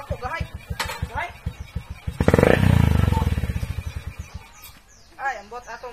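A motorcycle roars past close by, its engine note swelling loudly for about a second and a half before fading, with people chattering and exclaiming around it.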